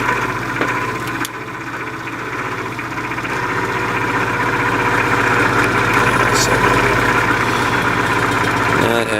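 The electric motor of a 1950s Patton fan struggles and strains, giving a loud, steady hum and droning vibration throughout with a faint rhythmic flutter, as if labouring under a fault.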